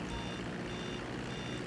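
Truck reversing beeps in GTA 5 Online, a steady repeating tone over constant engine and ambient game noise, moderately loud throughout.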